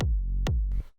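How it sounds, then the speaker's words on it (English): Heavily saturated drum and bass hits: two deep booming thumps with long warm, gritty low tails, then a short noisy crunch that fades out. "the first thing I have here is a saturator, which on its own sounds like this"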